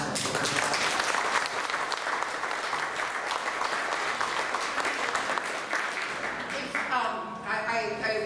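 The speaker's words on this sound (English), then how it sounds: "So a round of applause." A room of attendees at the Iowa Flood Center's 10-year anniversary event claps steadily for about seven seconds, a dense, even patter that thins out as a voice begins speaking near the end.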